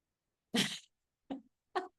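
A burst of sneezing: one strong sneeze followed by a few shorter, quieter ones in quick succession, close up with silence between.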